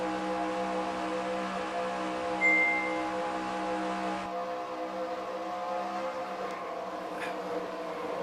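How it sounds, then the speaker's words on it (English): Race car engine in a racing video game at Talladega, a steady harmonic drone from the cockpit that cuts off partway through, leaving a quieter hum and faint noises behind. "It sounds like the engine turns off."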